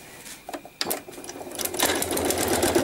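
A sewing machine stitching a quilt starts in short bursts, then runs in a steady rapid whir, close and fairly loud, with no talking.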